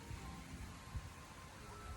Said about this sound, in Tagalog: malas pagpunta namin bumuhos ang malakas na ulan